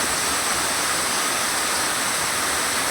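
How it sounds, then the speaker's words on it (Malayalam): Heavy rainwater floods and flows through a yard during a downpour, a dense, loud, continuous rushing wash that stays constant and close throughout, with no voices. "നല്ല മഴയാണ്, അതുകൊണ്ട് പറമ്പിൽ നിന്ന് മുകളിൽ നിന്ന് വരുന്ന വെള്ളം"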